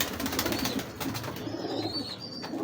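Old pigeons from a Lahore breeder's loft give soft, low repeated coos in a steady pulsing rhythm, with a thin higher bird call near the end against faint background noise.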